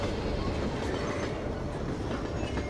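A train rolls past in the Half-Life 2 video game, a steady dense rumble with clickety-clack wheel noise and faint squeal, loud and continuous throughout.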